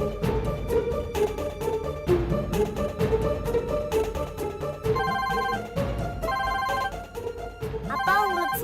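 A telephone ringtone plays loud and continuous, a repeating electronic melody of bright tones in an indoor domestic setting, with no talk over it.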